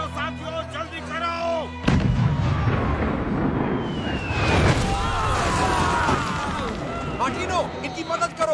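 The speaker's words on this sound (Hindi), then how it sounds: "तोपें तैयार करो, हमें हमला करना है।" Heavy cannon fire erupts in a battle scene of a Hindi web series, a loud booming blast followed by sustained rumbling explosions and clatter, with shouted voices and music around it.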